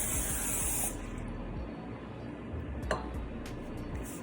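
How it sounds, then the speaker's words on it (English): Pam cooking spray misted onto a baking sheet for gingerbread cookies: a close, loud aerosol hiss bursting for about a second at the start, followed by quieter kitchen handling and a few light ticks. "I'm lightly going to spray the baking sheet"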